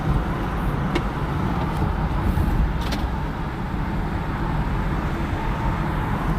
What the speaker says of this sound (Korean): 자동차 바람, 창문을 열어 바람을 들어오게 했는데 소리가 심상치 않지